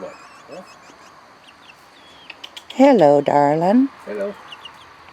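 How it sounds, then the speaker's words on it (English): Chickens clucking and squawking close by, a loud burst in the middle, while a person speaks softly to them. "Oh, those chickens."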